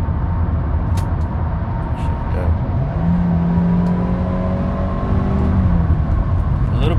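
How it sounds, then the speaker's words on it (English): Cabin road noise inside a 2014 Toyota Camry XLE driving in fourth gear, a steady low rumble and whir with a rising engine tone in the middle, alongside faint speech. "there's gonna be so much road noise going on, but it's a Camry"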